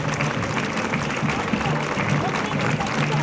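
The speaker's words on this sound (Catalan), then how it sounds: "La rodela enviant besets i rebent els aplaudiments del públic que n'hi ha a la tribuna d'autoritats que s'ha posat en peu" Outdoor festival crowd in a grandstand applauding a passing parade troupe during the Petrer fiestas, a loud, dense, unbroken patter of many hands clapping with a low hum beneath, steady from start to finish.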